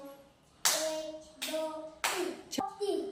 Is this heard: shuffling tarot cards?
no